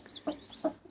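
Newborn day-one black hen chicks cheep nearby in a few short bright peeps, mixed with lower clucking bursts over a quiet background.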